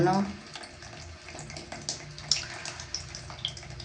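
Rusty water trickles weakly from a household tap into a sink, a steady running flow with occasional splashes and drips, while someone talks over it.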